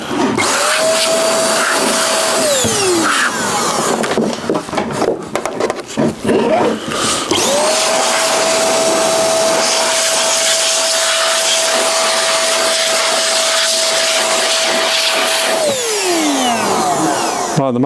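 Electric air blower clearing dust from a water-cooled computer, a loud close whine that spins up, stops briefly amid rattling and bumping, then runs steadily for several seconds before winding down.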